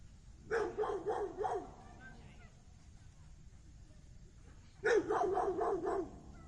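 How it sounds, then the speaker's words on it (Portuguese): Two short bursts of dog barking, several quick barks each, separated by a quiet pause; moderately distant. "Queria que esses cães parassem de latir."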